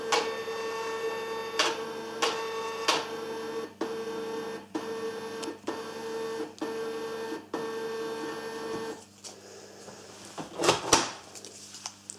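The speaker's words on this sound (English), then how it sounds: "press print." A Brady BMP71 portable label maker prints a run of cable markers with a steady motor whir, broken by regular clicks and thumps as each label advances, then a louder mechanical rattle at the end.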